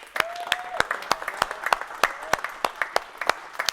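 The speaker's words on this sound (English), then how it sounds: "So let's give them a big round of applause" A room full of people clapping at a car dealership sales meeting, with distinct sharp individual claps standing out over a busy, fairly close round of applause.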